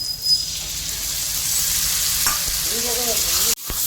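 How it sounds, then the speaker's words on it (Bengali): Spiced masala for prawn malai curry, with potato and coconut milk, sizzles and fries steadily in a pan, a close continuous crackle with a brief stirring scrape near the end. "দেখো মশলাটা কষাচ্ছি হয়ে গেছে"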